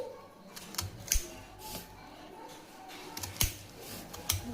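A knife slicing a peeled vegetable on a board, with a few crisp, close chops spaced a second or two apart over a faint background hiss.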